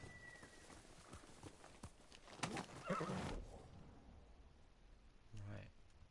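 A horse in the video game Ghost of Tsushima gives a short, faint neigh near the end, after a stretch of quiet shuffling and clip-clop hoof sounds.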